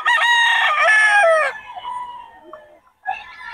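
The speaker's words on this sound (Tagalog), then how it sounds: "puro solid ang mga manok ni Boss Albert, mga banded" Banded gamecocks crow close by, one loud, full cock-a-doodle-doo followed by softer clucks and a second crow starting at the end.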